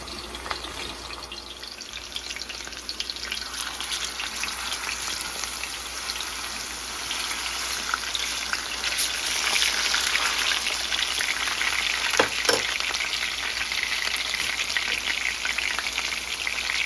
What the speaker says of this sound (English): And we're going to put our pork chops in the pan.